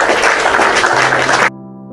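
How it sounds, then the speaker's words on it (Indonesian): A burst of crowd applause, dense and loud, cuts off abruptly into a sustained musical tone. "Tepuk tangan buat Kak Mary yang cantik dan manis."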